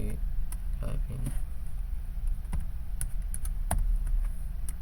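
Keys are typed on a computer keyboard during Python coding, giving scattered soft taps and clicks over a steady background hum, with a person talking through most of it.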